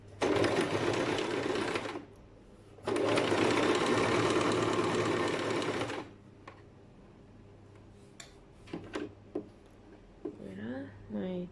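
Sewing machine stitching a fabric seam at 0.5 cm: two steady runs of rapid mechanical whirring separated by a pause, then quiet handling noises while a person talks.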